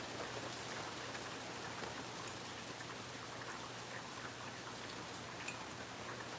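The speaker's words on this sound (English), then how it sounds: "And it's been raining all day" Steady rain from Tropical Storm Debby falls on surfaces nearby, a dense continuous hiss with fine pattering drops throughout, no voices.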